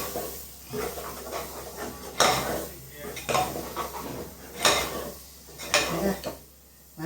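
A spoon scrapes and clanks around a pot as ground coconut paste is stirred into a bitter gourd curry, in repeated bursts of metal scraping over a soft background hiss.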